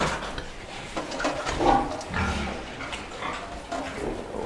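Piglets grunt and squeal in short bursts close by, a busy cluster of high-pitched animal cries over rustling barn noise.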